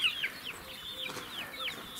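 Hens cluck and squawk on a small farm, with short chirpy calls repeating every half second or so at moderate distance over a quiet background.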